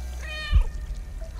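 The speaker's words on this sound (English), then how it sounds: "Can I meow?" A cat meows once in the video game Stray. The meow is short and close, with a rising and falling tone, and it stands over a quiet ambient game background.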